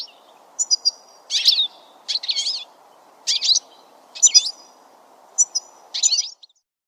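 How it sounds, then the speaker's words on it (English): Goldfinch song: six bright, twittering phrases spaced about a second apart, with a steady low background hiss under them. "goldfinch,"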